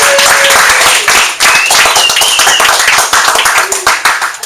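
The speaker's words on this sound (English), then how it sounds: "Let's give her a round of applause." Loud, dense applause from an audience, a sustained burst of clapping up close with a few whoops and voices mixed in.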